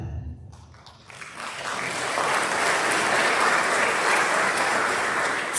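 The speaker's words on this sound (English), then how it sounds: "We should hold applause to the end." After a short quiet moment, applause for a scholarship recipient at a scholarship night swells and holds as a dense, steady clapping from a large audience.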